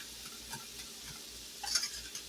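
Eggs and cottage cheese cooking in a pan, giving a faint, quiet sizzle with soft stirring scrapes and a brief brighter crackle near the end.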